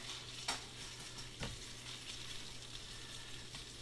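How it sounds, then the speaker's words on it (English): Steady, hissing sizzle of smoked sausage frying in a hot skillet, with a couple of sharp clinks of a Tupperware spatula against the skillet. "You hear it sizzling already."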